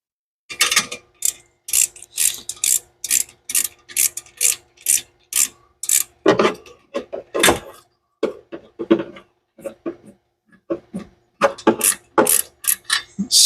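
A hand wrench works a nut loose on a Mustang engine being torn down for a budget turbo build, giving a steady series of sharp ratcheting clicks and scraping metal strokes, close and fairly loud.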